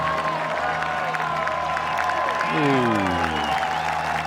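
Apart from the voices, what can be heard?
golf gallery crowd roaring and applauding at the Open Championship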